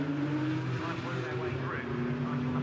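Porsche Cayman race cars at Brands Hatch drive through the Druids hairpin, their engines a steady droning whine with shifting pitch. A commentator talks over the engine noise.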